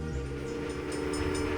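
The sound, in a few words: train in video game Railway Empire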